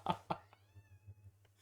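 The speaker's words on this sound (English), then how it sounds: "Do you guys hear that meow?" A cat meows nearby in a room, a couple of short quick calls and then a thin drawn-out mew, faint beneath a low hum.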